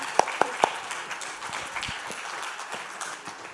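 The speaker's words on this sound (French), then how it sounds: "On peut les applaudir, oui, merci." Scattered audience applause at a conference on elder care homes, a few sharp near claps at the start then thinner, sparse clapping trailing off.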